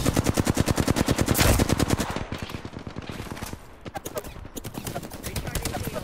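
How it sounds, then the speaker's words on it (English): Rapid automatic gunfire rattles in a fast, loud burst during an Apex Legends match and then breaks into shorter volleys and scattered shots. The character's voice lines play underneath. "Being shot at."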